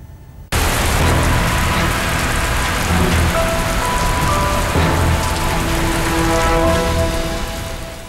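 Heavy monsoon rain in Himachal, starting abruptly as a loud, dense, continuous roar of downpour on surfaces that holds steady to the end, with no voices.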